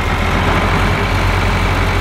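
A tractor engine in Farming Simulator 2013 idles with a loud, steady low rumble that runs unbroken from start to finish and has no talk over it.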